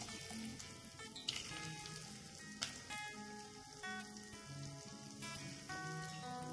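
Finely sliced garlic sizzles in hot oil in a pan while Meen Pollichathu is cooked, giving a steady, fairly quiet crackle with scattered pops under faint background music.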